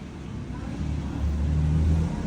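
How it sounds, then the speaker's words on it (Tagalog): A noisy Honda Click scooter engine runs close by with a low, rough mechanical rattle that grows louder and more strained over its brief span. "may dinala ditong Honda Click at napakaingay."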